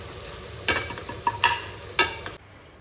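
Onion, chilli, ginger garlic paste and paneer frying for paneer bhurji, a soft background sizzle broken by three or four sharp utensil clacks against the pan before it cuts off abruptly.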